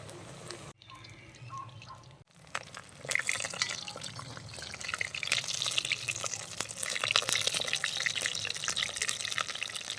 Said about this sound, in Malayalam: അതുകൊണ്ട് സൂക്ഷിച്ച് വറുത്തെടുക്കാം.